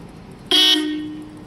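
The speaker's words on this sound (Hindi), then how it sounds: "हॉर्न चेक करो" A modified 2022 Hero Splendor Black Edition motorcycle horn sounds once, a loud close blast that sets in abruptly and then fades slowly over about a second, with a quiet background and no talking.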